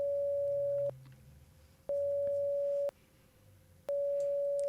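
A modular synthesizer square wave switching between 0 and 10 volts, giving a steady telephone busy-signal tone that beeps in about four regular one-second pulses, loud and alone.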